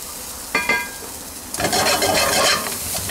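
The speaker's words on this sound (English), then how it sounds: "Salt fry it all up a bit." Ingredients for a cod bhuna are stirred in a pan with salt: a few scraping strokes come first, then a dense, steady sizzle and clatter of frying fills the rest, close and fairly loud with no talking.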